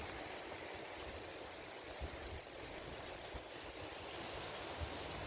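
A clear river at Cinangka, Jalan Cagak, Subang, fed by irrigation water, flows with a steady, even rush that stays constant and fairly soft throughout, with no voices.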